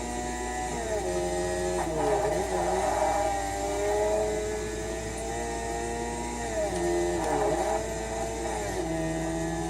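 A rotary-engined sports car in the Forza racing video game drones steadily with a few rising and falling rev swells, a continuous mid-pitched whir at moderate loudness.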